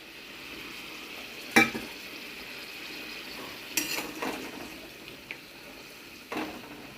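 Katla fish frying in a pan, a steady low sizzle carrying on throughout, broken by a few sharp metallic scrapes and clanks of a utensil against the pan, with no voices.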